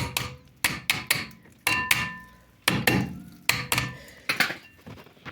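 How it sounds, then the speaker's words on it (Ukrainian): Sharp metallic hammer taps on a new rear brake caliper bracket of a Mazda 3, striking in irregular succession, a dozen or so blows close by, with short ringing decays between them. "Беремо молоток і підбиваємо"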